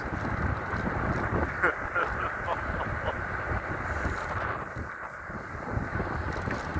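A strong gust of wind buffets the microphone while riding a fast 5000-watt e-bike, a loud steady roaring rush of air that swells and fades slightly throughout, with no clear talk.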